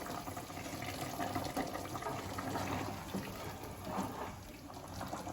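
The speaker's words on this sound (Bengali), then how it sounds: "এবার আমি মাছগুলো দিয়ে দিচ্ছি, দিয়ে ঝোলের সাথে আমি ভালো করে মিশিয়ে দেবো।" Kalbaush fish pieces are slid into boiling curry broth and stirred, producing a steady wet bubbling and sloshing of liquid that continues evenly throughout at moderate loudness, with no talking.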